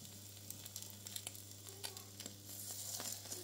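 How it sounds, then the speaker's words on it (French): Three migliacci, a Corsican flatbread, frying gently in a pan, a soft continuous sizzle with scattered crackles and pops over a steady low hum, close and quiet. "je vais me mettre 3 miliaches dans la poêle"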